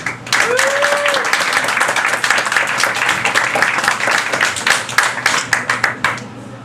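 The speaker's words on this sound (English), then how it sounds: "please give a warm round of applause to Ava Leavell Haymon" An audience at a poetry reading breaks into a warm round of clapping, steady and fairly close, with a brief voice at the start.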